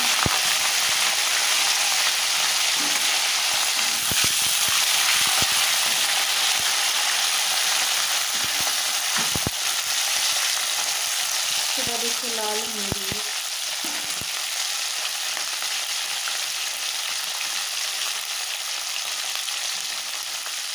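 Cauliflower fries in hot oil after spices are tempered, giving a loud, continuous sizzle with occasional stirring clicks and a brief voice midway.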